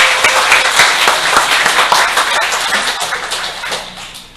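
A church congregation claps together during a Sunday worship service, dense steady applause filling the sanctuary at close range, with no talking over it.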